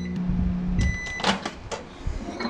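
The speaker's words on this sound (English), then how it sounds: "we're gonna pop this into the microwave and get it started up" A microwave oven hums steadily while heating soft plastic for fishing baits, with faint clicks and clunks over the continuous drone, close and moderately loud, no talking.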